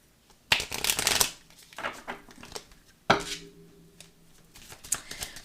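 A deck of oracle cards is cut and riffle-shuffled close by, giving two sharp, fluttering bursts with softer handling and tapping between them.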